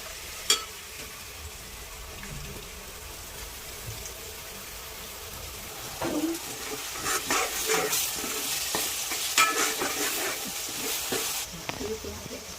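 Tomato puree stirred into a spiced masala of coriander powder and garam masala, frying in a pan for goat head curry; soft background sizzle, then louder scraping stirs and sputtering from the middle of the clip onward.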